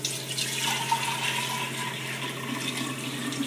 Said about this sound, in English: pour our mixture back into our gallon container.